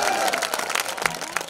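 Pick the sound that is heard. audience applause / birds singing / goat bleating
audience applause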